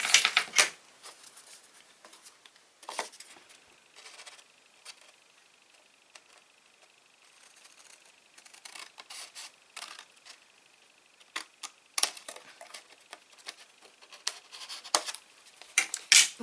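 Paper is cut on a We R Memory Keepers Punch Board 123 with sparse, faint clicks and scraping snips, scattered bursts of small taps separated by quiet gaps.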